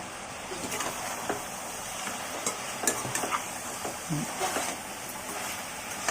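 Mutton paya stirred and fried in a pan, a sizzling bed broken by repeated scraping and clattering strokes of a ladle against the metal, close and moderately loud, with a voice faintly present underneath.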